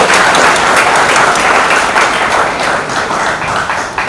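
A large audience bursts into dense, loud applause at a public initiative event, a continuous wash of clapping that holds steady for several seconds with no one speaking over it.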